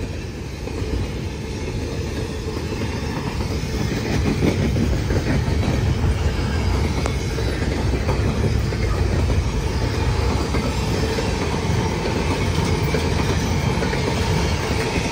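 A Norfolk Southern coal train rolls past in Ironton, filling the air with a loud, steady rumble of wheels on rail and rhythmic clatter from the cars, continuous throughout with no voices.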